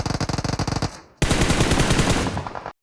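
Gunfire in PUBG Mobile on the snowy Vikendi map: a rapid automatic burst of evenly spaced loud shots, a brief lull, then a second sustained, dense volley that cuts off abruptly.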